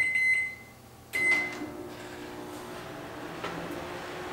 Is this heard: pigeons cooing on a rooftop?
no